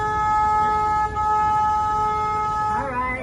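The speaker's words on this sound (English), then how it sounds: "I'm gonna honk my horn so you guys get the full experience." A car horn sounds as a steady sustained honk through most of the short span, loud and close, with the tone wavering and shifting near the end; no talk is heard, recorded on a day trip in San Antonio near the river.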